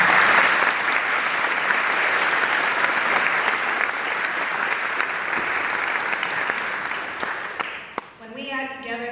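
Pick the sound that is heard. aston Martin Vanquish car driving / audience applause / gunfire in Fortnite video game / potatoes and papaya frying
audience applause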